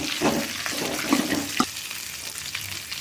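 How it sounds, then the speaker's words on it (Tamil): Turkey berries sauté in a pan with onion and green chilies, giving a soft, steady sizzle with a few scraping stir sounds, close and fairly quiet. "சுண்டைக்காய் கொட்டி ஒரு வதக்குறோம்."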